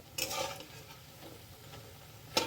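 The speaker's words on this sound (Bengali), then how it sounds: "আমি এই সিমে দিয়ে এগুলো ভাজছি।" Vegetable pakoras with cornflour batter frying in oil and turned over, a soft crackling sizzle with light scraping and a sharper clink near the end, fairly quiet.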